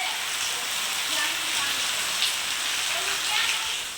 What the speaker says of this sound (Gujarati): વરસાદ શરૂ થયો